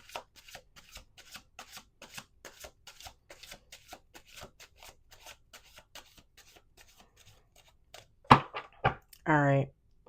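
Tarot cards are shuffled in a quick run of soft riffling flicks, close and quiet, ending with a few louder taps and a brief voice.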